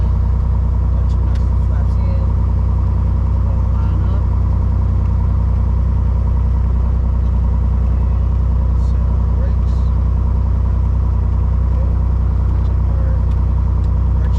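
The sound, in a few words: Piper Lance Turbo II aircraft engine during takeoff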